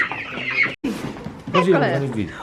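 Chickens cluck close by in short, throaty bursts, with a brief break in the middle before the clucking resumes.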